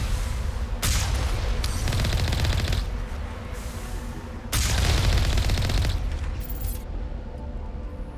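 Sustained turret gunfire in Mass Effect 1 Legendary Edition, two long loud bursts of rapid automatic fire separated by a short lull, with a trailing rattle at the end.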